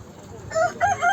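A rooster crows nearby in two rising, strained bursts over a faint background murmur at the Edirnekapı poultry market in Istanbul.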